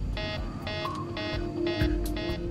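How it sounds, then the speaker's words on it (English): Aircraft depressurization warning alarm on a test flight, five evenly spaced harsh buzzing beeps repeating at a steady pulse over a low cabin rumble, with no talking. "It's not the takeoff config alarm that sounds, but rather the depressurization alarm."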